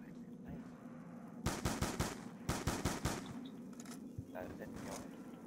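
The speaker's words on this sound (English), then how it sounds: "I like how I shoot bullets at them and that doesn't do anything" Gunfire in Black Ops 2 Zombies, with a rapid automatic burst, then a second volley and a few scattered shots over low game ambience, fairly faint overall.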